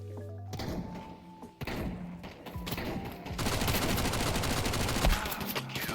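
AK rifle fire in a video game rattles in rapid bursts, growing heavier and more sustained toward the end, mixed with thuds and other in-game effects.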